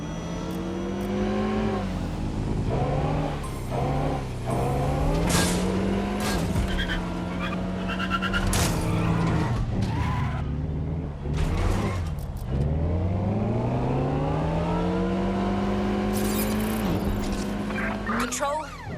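Car in the game Watch Dogs: Legion driving fast with a loud, rising and falling engine whine, tires squealing through turns, and sharp thuds of impact as it rams another vehicle.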